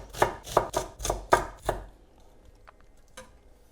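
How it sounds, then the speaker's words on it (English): A knife roughly chops onions on a board: six firm, evenly spaced strokes over about two seconds, then the chopping stops and only faint kitchen noise and a couple of soft knocks remain. "finely chop this and roughly chop the onions"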